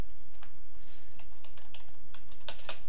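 Keyboard typing on a computer, a run of scattered clicking keystrokes that ends in a quick close burst of several keys, heard alone and fairly clear.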